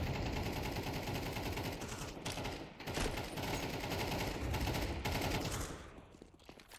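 Dense, continuous gunfire in a Counter-Strike match on the Inferno map, with overlapping shotgun blasts and rapid shots forming a loud, sustained barrage that thins out near the end.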